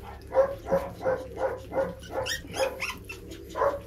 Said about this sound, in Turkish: Diğer köpeklerin sesini duyunca kaçtı.